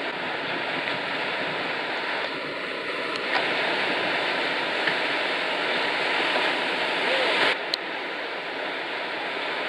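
Ocean surf breaks steadily at a surfing spot near Rabat, a continuous broad wash of waves heard from close by, loud and unbroken, with no voices.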